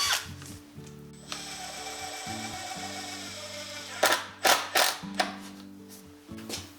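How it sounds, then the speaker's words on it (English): A power drill drives a screw through an exterior door jamb into the wood framing, with stepped whirring runs of the motor followed by several sharp bursts as the screw bites and seats, close up with no talk. "Pre-drill your hole and sink a screw through the door jamb into the framing."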